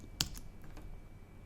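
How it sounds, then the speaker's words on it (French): A single crisp press of the Caps Lock key on a computer keyboard, one short click close to the microphone, followed by near silence. "Donc la touche Caps Lock sur le clavier,"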